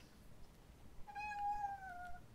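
A cat gives one drawn-out meow, clear and fairly close, rising then falling in pitch over a quiet room background.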